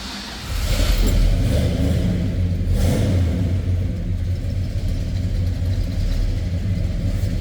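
A 1968 Chevrolet Chevelle SS engine runs steadily after a cold start, a loud, close, deep rumble that swells in the first second and then holds a constant idle with no talking.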